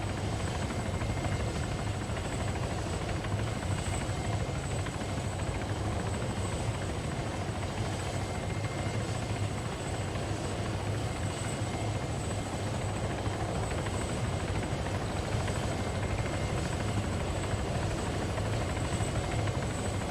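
A helicopter in a combat video game, its tail rotor lost, comes down to land in a field; a steady, dense rotor and engine roar holds constant throughout with no talking.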